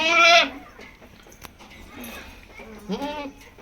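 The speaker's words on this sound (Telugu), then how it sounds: "మేక ఈనింది" A goat that has just given birth gives a loud, near bleat at the start, then fainter bleats follow about two seconds and three seconds in, with quiet stirring sounds between them.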